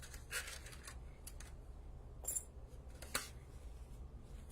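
Scissors snip the paper cap off a die-cut shape for a beach card, a few quiet, sharp cuts spaced apart against a low background hum.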